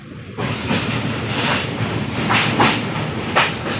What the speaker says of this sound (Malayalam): നമ്മുടെ ട്രെയിൻ പെരിയാർ പുഴയ്ക്ക് കുറുകെ പോവുകയാണ്